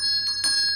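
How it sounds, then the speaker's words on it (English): Bell ringing somewhere in a house, sounding as a sustained metallic ring with bright steady overtones and two louder strikes, no voices present. "who's ringing the bell?"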